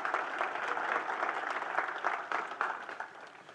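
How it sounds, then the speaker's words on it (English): Audience at a city's State of the City address clapping in applause for the police and fire departments, a steady moderate burst of many hands with scattered louder claps throughout. "let's give a big round of applause to our Miramar Police Department and Fire Department"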